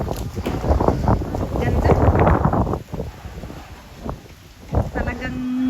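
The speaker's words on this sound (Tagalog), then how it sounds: "Ang hangin dito guys." Wind blowing hard across an open hilltop in Claveria, Misamis Oriental, a steady close roar buffeting the microphone while a person talks over it.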